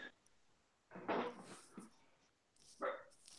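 A dog gives a few scattered barks and whimpers at moderate distance, separated by quiet breathing-like gaps, with a louder yelp near the end.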